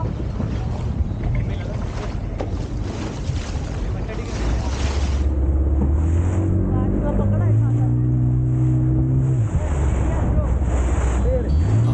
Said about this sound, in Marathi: फुल फॅमिली चाललो आहे बोटिंग करायला.